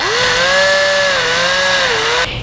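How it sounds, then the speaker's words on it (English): A power drill whines steadily at high speed, its pitch sagging slightly under load as it bores a hole through wood for an eye hook, then cuts off near the end. "I'm getting ready to drill the hole for the eye hook"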